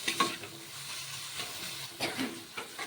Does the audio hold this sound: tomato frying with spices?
yes